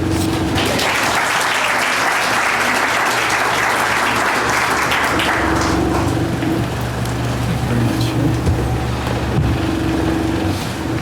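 An audience at a Black Parents Association baccalaureate ceremony in San Mateo applauds to welcome speaker Kevin Skelly, a loud sustained roar of clapping from a large crowd that carries on steadily throughout.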